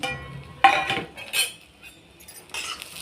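A metal spoon scrapes and clinks against a pan while stirring curry leaves and spices being dry-roasted for garlic chutney, a few sharp clanks separated by brief pauses.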